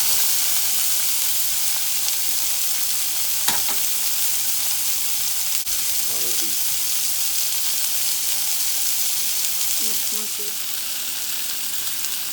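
A burger patty sizzles steadily on a grill, a loud continuous crackling hiss with a couple of brief clicks and taps over it, no talking.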